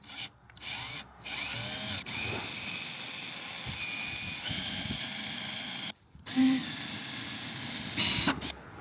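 A power drill whines steadily through metal on an RC car, stopping and restarting a few times with brief pauses between bursts, close and loud.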